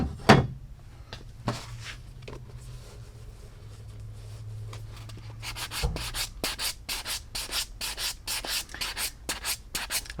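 Light rhythmic buffing strokes on a leather cap toe oxford shoe nearby, soft at first then building into quicker, brisker buffing passes.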